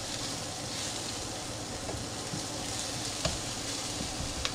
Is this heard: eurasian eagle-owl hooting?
no